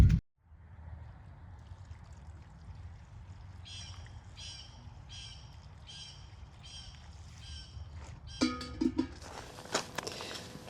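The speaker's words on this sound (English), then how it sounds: "Let's go ahead and water it right away." Water pours and trickles onto a freshly planted baby plant with a taproot, a steady soft stream with bird chirps in the background and a few rustles and steps near the end.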